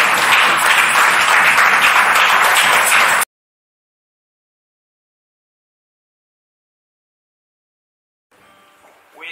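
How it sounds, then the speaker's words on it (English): A congregation claps together during a Sri Lankan Christian fellowship church service in Nicosia, a loud, dense burst of applause lasting about three seconds that stops abruptly into silence, with only a faint sound returning at the end. "let us clap to the Lord"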